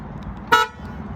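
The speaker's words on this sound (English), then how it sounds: "is this loud horn whenever you lock it" A single short horn toot from a 2022 Kia Sorento sounds nearby as it locks, brief and sharp over faint background noise.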